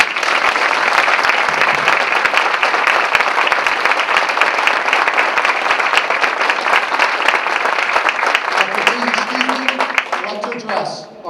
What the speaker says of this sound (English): please join me in a well-earned round of applause for our drill instructors and for the families that